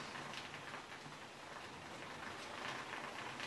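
Rain falls steadily over an outdoor football game on a cold, windy day, making a soft, even hiss that stays constant throughout with no distinct voices.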